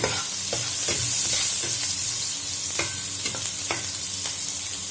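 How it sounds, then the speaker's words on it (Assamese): Onions frying in a hot kadai for a tomato fish curry, with a steady close sizzle and spaced scraping clicks of a spatula stirring throughout. "কেৰাহীখন গৰম হোৱাৰ পাছত মই পিয়াজ দি দিছো"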